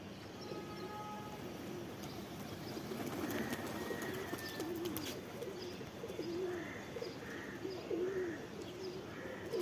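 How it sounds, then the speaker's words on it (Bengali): Pigeons cooing and calling after landing from a morning flight, soft rolling coos repeating near and far over a low steady background rumble, with faint train-like noise underneath and no talking. "কিছু কিছু কবুতর এনার্জি মাশাআল্লাহ এখনো আছে, ডাকাডাকি করতেছে"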